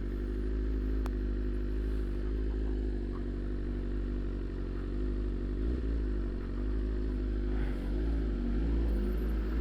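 BMW S1000RR sport bike engine droning loudly and steadily with continuous low rumble, close by, with slight swells in pitch as it revs.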